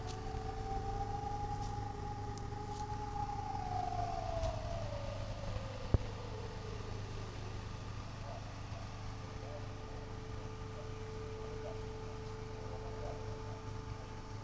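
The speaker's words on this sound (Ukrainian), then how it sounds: "Знову повітряна тривога." A distant air raid siren in Zaporizhzhia, Ukraine, wails, holding a steady tone before slowly falling in pitch, then continuing low and faint beneath a quiet background.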